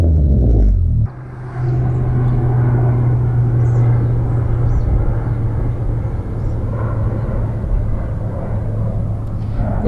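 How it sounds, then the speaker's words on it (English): An airplane flies overhead, a broad steady roar with a low droning tone that holds loud for several seconds and slowly fades, following a brief louder rumble at the start. "there goes another airplane"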